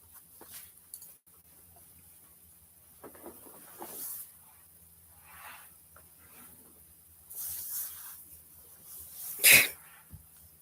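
Quiet room tone with soft breaths and sniffs, building to one sharp, loud sneeze near the end.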